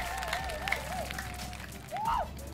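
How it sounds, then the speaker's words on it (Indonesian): Studio audience on a televised cooking-contest game show clapping and cheering briefly, with a host's voice and music tones over the crowd noise. "Bagus, tepuk tangan dong untuk tim Cabrek dan tim Cabrek."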